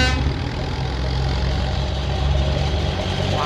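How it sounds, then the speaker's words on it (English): A vintage tractor engine rumbles on a charity tractor run, a steady, fairly close low drone that holds evenly for a few seconds with no voices. "Can't beat a good old tractor run, can you?"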